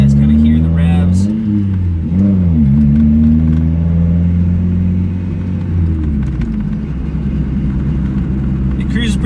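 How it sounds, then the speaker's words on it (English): A lowered Mazda Miata's engine revs up and down in loud, repeated surges while driving, the pitch climbing and falling over a steady low road rumble, then settling into a cruise. "Let you guys kind of hear the revs."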